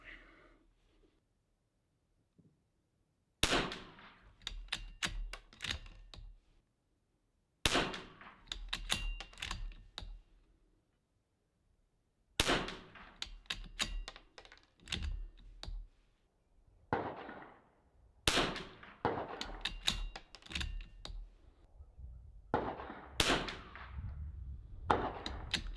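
Repeated .22 LR rifle shots firing Lapua Long Range ammunition, each a sharp loud crack with a ringing tail, spaced several seconds apart with quiet gaps between, close to the microphone and with no talk.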